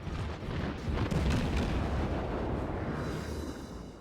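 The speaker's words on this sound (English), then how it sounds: "So I then forget about the single ranging shots and start just firing." Guns of a tier 1 warship, the Erie, fire in World of Warships as a naval battle unfolds, heavy rumbling booms blending into a continuous loud roar of gunfire and explosions.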